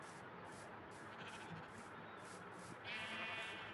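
A video-game sheep gives a few short repeated bleats, clear and alone over a quiet background, with a brighter final bleat at the end.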